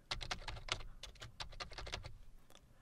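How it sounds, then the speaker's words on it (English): Keys clatter on a computer keyboard in quick, irregular bursts of typing, fairly close and moderately loud, with brief pauses between runs of keystrokes and no talking. "So if I were to type a bit of text,"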